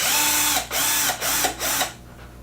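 A small power driver whirs in repeated short bursts, loosening 2 mm screws on a Traxxas UDR steering servo mount, loud and close with brief pauses between runs.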